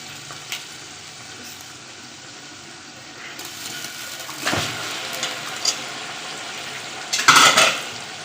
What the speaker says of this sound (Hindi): इसको अच्छी तरह मैं 5 मिनट तक इसकी बुनाई करूँगी, भूनूँगी इसको